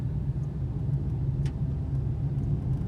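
A 2022 Hyundai Aura with 20,000 km on it cruises smoothly in second gear, giving a steady low engine and road rumble heard from inside the car with no talk.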